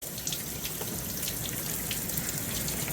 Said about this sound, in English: The water with the sand goes down through these holes.